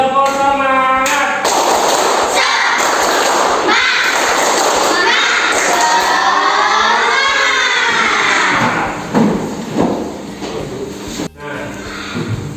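Schoolchildren in an Indonesian classroom lesson shout and clap together in a clap chant, a continuous loud mix of young voices and taps that thins out toward the end.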